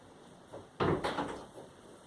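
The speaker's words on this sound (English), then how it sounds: "Close my door then." A door closes indoors with one soft thud followed by a brief rattle, close and fairly quiet over a low room hum.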